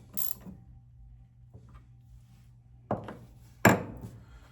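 A tool post on a VEVOR lathe is tightened, giving a few sparse metallic clicks and two sharper clanks near the end over a low steady hum, close and fairly quiet.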